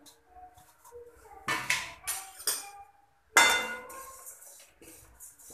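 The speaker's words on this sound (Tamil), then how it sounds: "முதல்ல பெருஞ்சீரகத்தை தனியாக வறுத்து எடுத்துடலாம்." Fennel seeds dry-roasting in a hot kadai without oil, stirred in short bursts of scraping and rattling against the metal pan, close up and intermittent with quiet gaps between.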